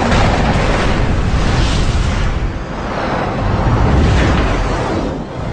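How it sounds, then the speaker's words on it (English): A MiG jet's empty fuselage explodes after .50 caliber machine gun rounds from an F-86 Sabre hit it: a loud, sustained roaring blast that fills the whole stretch and swells again toward the end. "Seconds later, the empty fuselage explodes."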